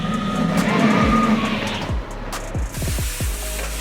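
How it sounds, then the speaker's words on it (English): Roller coaster magnetic brakes dropping: a rushing whoosh of a passing train gives way to a quick series of sharp, descending mechanical clunks and swoops, fairly close and alone without talk. "Whenever you hear those magnetic brakes drop,"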